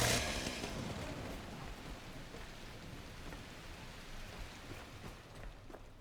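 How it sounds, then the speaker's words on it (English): Steady rain pours at night in the video game The Last Caretaker, a dense constant hiss that is loudest at the start and then holds even, with a faint low rumble under it and no voices. "Scrapping at night. In the rain."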